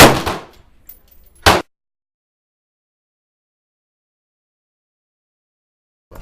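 A Ruger 10/22 rifle fires at an outdoor shooting range, two sharp cracks about a second and a half apart, followed by silence.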